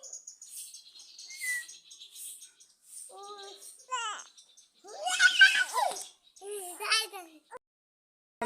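A bird in a tree gives a string of short, bright chirps and tweets, while a child chatters and babbles close by between and over the calls.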